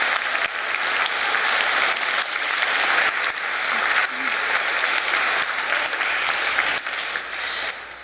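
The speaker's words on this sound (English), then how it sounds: "Yes, let's give them a round of applause." Sustained applause from a sizable concert audience, steady and dense clapping throughout with no break, fairly loud and close.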